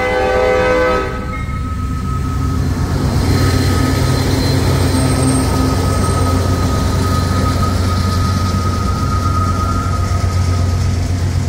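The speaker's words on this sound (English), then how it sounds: "we got a CSX southbound here on the Newcastle sub" A CSX southbound freight train on the Newcastle subdivision roars past close by in light rain, opening with a loud horn blast and then a steady heavy rumble of wagons rolling on the rails.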